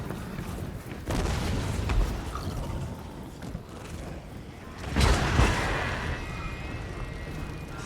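Artillery fires in a Warhammer 2 multiplayer battle, several deep booms and thuds at about one, two and five seconds, the loudest blast rolling out over a continuous rumble of battlefield noise.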